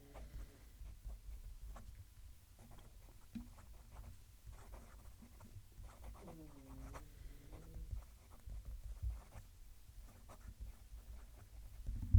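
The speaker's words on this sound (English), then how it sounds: "Let's move the mic so you can hear the pen write." Soft scratchy nib strokes of a fountain pen, Wing Sung 699 or Pilot Custom 823, across paper with a fairly wet ink combination, faint, close-miked and irregular, with a brief quiet voice midway.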